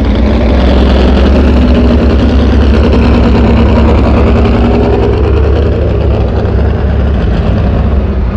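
A Chevrolet truck-pull engine, the California Flash, roaring at a loud, heavy, constant level throughout, a deep sustained engine drone with no talking.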